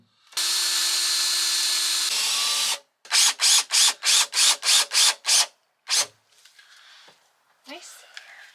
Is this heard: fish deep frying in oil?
no